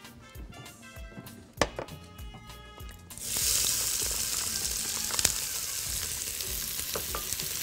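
Onion and garlic hit hot oil in a pan: a brief clatter of stirring and chopping gives way to a loud, steady sizzle that fills the rest of the clip, with no talking.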